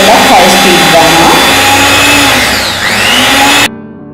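An electric mixer runs at high speed, beating marshmallow pudding made with gelatin and sugar. It gives a loud, steady whirring drone with a constant motor whine, then cuts off abruptly near the end.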